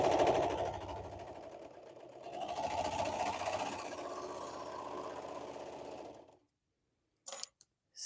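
A sewing machine runs steadily across a hoodie shoulder seam, a close, continuous whirring hum for about six seconds that stops abruptly, followed by a few faint clicks.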